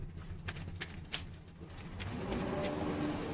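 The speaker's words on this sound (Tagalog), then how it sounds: "pasensya na po sa ingay ng mga sasakyan." Passing vehicles in Philippine morning commuter traffic make a steady low rumble that builds toward the end, with a few faint knocks and shuffling sounds near the start.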